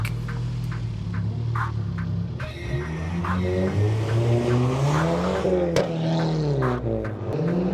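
Turbocharged VW Scirocco TSI GT with a big turbo making 350 bhp, its engine droning steadily up close as it revs and pulls, with shifting pitch and brief sharp transients over the run.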